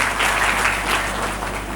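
A room of young people at a recruitment workshop breaks into loud, sustained applause, dense overlapping clapping that fills the space and tapers slightly toward the end.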